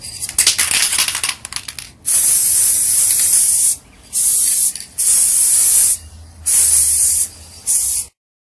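Chrome spray paint hisses from an aerosol can onto a DIY Kylo Ren helmet in loud, close bursts, four or five sprays of about a second each separated by short pauses, after some brief rattling and handling noise.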